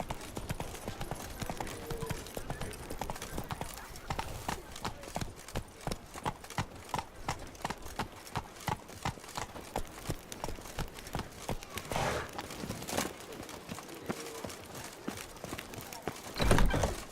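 Geralt's horse Roach galloping in The Witcher 3: Blood and Wine, steady rhythmic hoofbeats close and continuous, with a heavier thump near the end.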